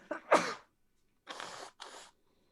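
A single sharp sneeze bursts out, followed by a couple of brief breathy sounds, then quiet.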